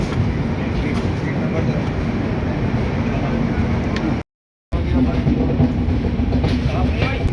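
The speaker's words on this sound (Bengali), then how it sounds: "আমাদের ট্রেন এখন আটটা সাতান্নতে ভারতপুর জাংশন থেকে ছেড়ে দিয়েছে" Inside the Ajmer SF Express, a 3rd AC coach rolling away from Bharatpur Junction gives a steady, loud rumble with faint rhythmic clatter, broken by a short silent gap.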